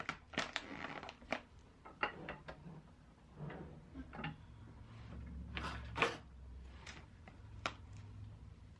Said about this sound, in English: So I'm gonna go ahead and open up this bag.